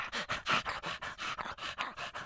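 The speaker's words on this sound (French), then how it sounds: "Le chien, le gros chien" A big dog pants in the Lucky Luke cartoon, rapid rhythmic breaths, about a dozen quick huffs in a steady close, loud pattern.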